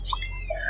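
A single short cat meow, fairly close and clear, rising then falling over a low steady background hum.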